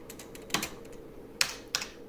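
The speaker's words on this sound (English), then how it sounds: "I'm looking at the screen and typing with my right hand" Keystrokes on an IBM 5150 computer keyboard, a few sharp isolated clicks with pauses between them, as if typing slowly with one hand, close up over a quiet background.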